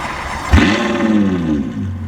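A Ferrari FF V12 engine cold-starts, cranking and catching with a sharp burst, then settles into a steady, rumbling idle with a smooth, layered hum.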